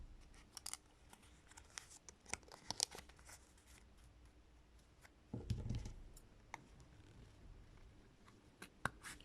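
Scissors snipping through a folded card circle for a pompom doughnut, producing quiet, scattered crisp cuts and rustles with one longer scrunching burst midway, heard up close in a hushed room.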